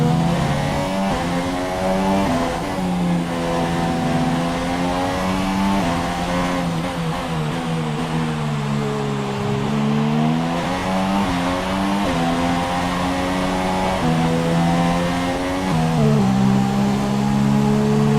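Racing car engine in F1 2017 career mode at Melbourne: a loud, close, high-revving whine that climbs and drops through gear changes as the car laps, steady and without talk.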